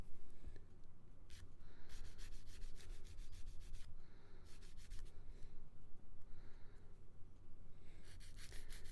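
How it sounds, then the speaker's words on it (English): Repeated bursts of sanding, a scratchy rasp of abrasive on a small plastic model kit knee joint part in short strokes, with pauses between over a low steady hum. "I was sanding some of the knee joint parts"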